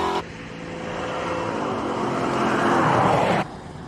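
Race car climbing the hill at the Simola Hillclimb: a steady engine roar rises in pitch and loudness as it passes close by, then cuts off abruptly, with no talk.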